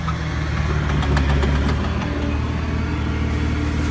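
A truck engine idles close by, a steady low rumble with a faint knocking pulse running unbroken for the whole stretch, no voices over it.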